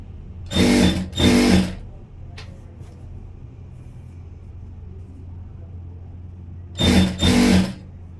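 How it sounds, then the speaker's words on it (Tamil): A sewing machine stitches falls onto the edge of a saree in two short, loud motor bursts, each about a second long and several seconds apart, with a low steady hum in the quiet gap between them. "இப்படி தைங்க நீங்கள் தைக்கும்போது இதே மாதிரி தான் தைக்கணும்"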